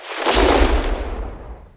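A single booming explosion with a sharp onset, then a rumbling low tail that fades over a second or two.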